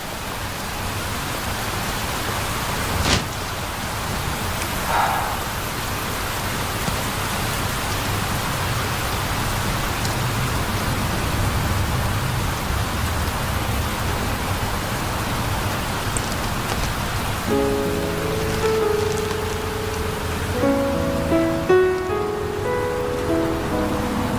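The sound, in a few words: rain falling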